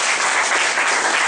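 A seminar audience claps together, a brief, dense burst of many hands applauding steadily and loudly from start to finish.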